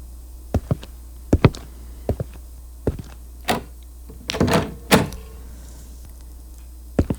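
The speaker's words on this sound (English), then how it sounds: "go lock the doors." Car door locks and power windows being worked: a series of sharp, separate thunks and clicks, with a busier cluster of mechanical clunks near the middle of the sequence, all close and with no talking.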